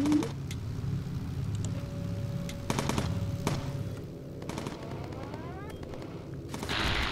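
A bomber's front cannon in Bomber Crew fires in a few sharp, separated bursts over a steady droning engine rumble, with a rising whine and a loud roar swelling at the end.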